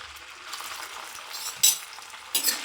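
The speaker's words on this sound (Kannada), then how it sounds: "ಎಣ್ಣೆ ಕಾದ ಮೇಲೆ ಈ ಥರ ಪನ್ನೀರ್ನೆಲ್ಲ ಹಾಕ್ಬಿಟ್ಟು" Paneer fries in hot oil with a constant soft sizzle, broken by two brief clinks of a utensil against the pan near the end.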